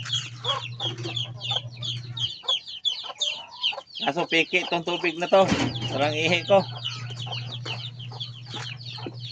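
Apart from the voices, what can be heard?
chickens clucking while being fed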